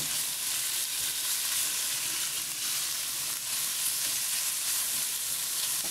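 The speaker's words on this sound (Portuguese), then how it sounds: "Já vou colocar aqui a carne. Vou dar uma espalhada bem." Beef frying in a pan for Korean japchae, a steady close sizzle that holds at an even level throughout, with no one talking.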